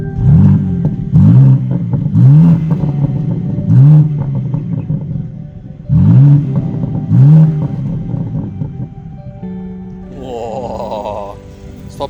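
A Subaru accelerating up a mountain pass in Japan in Sport Plus mode, with repeated rising engine pulls and gear changes in a loud, close in-cabin drone that later settles into a steadier whine.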